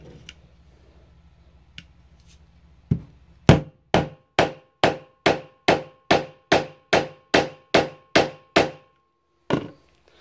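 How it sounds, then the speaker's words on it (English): A hammer drives the spine of a D2 steel knife into a penny. After a couple of light taps come about a dozen sharp, loud metallic strikes at a steady brisk pace, then one final blow after a short pause. "blows from a hammer onto the spine of this knife and into this penny"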